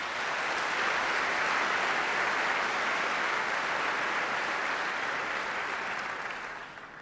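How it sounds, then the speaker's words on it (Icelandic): Audience at a Tækniskólinn graduation ceremony gives sustained applause for retiring teachers. The dense, even clapping fills the hall without pause, then tapers off in the final second. "Við gefum þeim gott klapp fyrir störfi þá á skólans"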